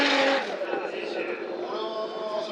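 A Toyota Supra drift car rips around a bend at Fuji Speedway during Formula Drift Japan qualifying, its engine screaming loud and sustained with tire noise as it passes, a commentator talking over it.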